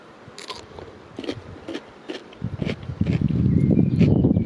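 Crisp crunching bites of cabbage, a series of sharp close bites spaced roughly evenly, followed by louder continuous chewing near the microphone, with no talking.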